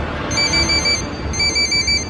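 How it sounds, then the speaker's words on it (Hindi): Phone ringing as a sound effect in a horror story, two bright electronic trilling bursts with a short gap between them, loud and close over a low background hum. "दरवाजे के बंद होते के साथ ही उस आदमी का फोन कौशिक के फोन पे आया"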